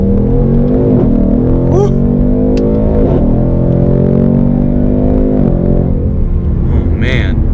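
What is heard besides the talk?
2018 Ford Mustang GT accelerating in first gear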